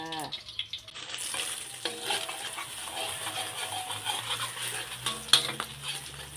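An egg frying in oil with garlic, a continuous close sizzle broken by utensil clinks against the pan and one sharp metallic tap.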